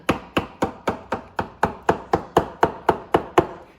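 A knife poking holes into a New York strip steak on a board, fourteen evenly spaced sharp taps at a steady quick rhythm, close and distinct with no talking.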